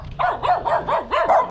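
Dogs bark close by in a quick run of about five sharp, evenly spaced barks, loud and clear with no talking over them.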